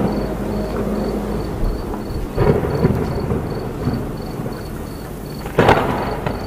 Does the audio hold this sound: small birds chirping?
no